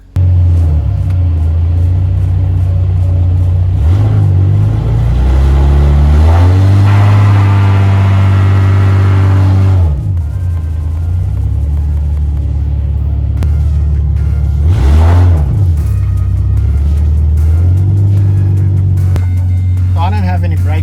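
A Ford AU Falcon engine rumbles steadily up close, rising in pitch as it revs a few times while the car moves, with a voice speaking over it.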